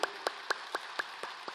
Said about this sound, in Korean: 그런 마음 담아서 우리 그 주님께 감사의 박수 한번 힘차게 올려드릴까요?